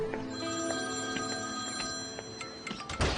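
A telephone rings faintly in a room, repeated electronic ring tones running steadily beneath background hum, with a brief clatter near the end.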